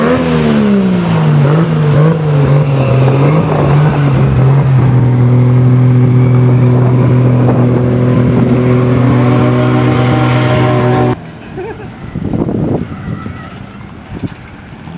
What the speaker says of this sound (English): DJ brought his S14